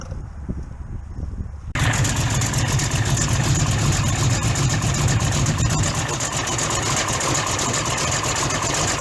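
The engine of a 1968 Pontiac Firebird idles steadily and loudly after starting abruptly a couple of seconds in, with a continuous low rumble and no revving.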